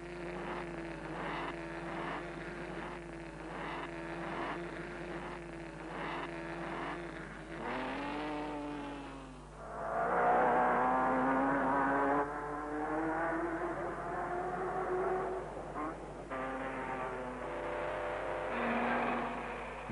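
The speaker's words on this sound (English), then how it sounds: "The two auto unions are the last to leave in this handicap event." 1930s Auto Union racing cars start a handicap race one after another, engines revving hard and rising in pitch as they pull away, loud and close, with engine drone underneath.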